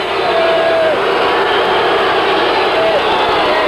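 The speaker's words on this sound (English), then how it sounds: "Boy, the crowd is upset about that." A basketball arena crowd at a 1984 game voices its displeasure in a steady, loud wash of murmuring and jeering, with a commentator talking over it throughout.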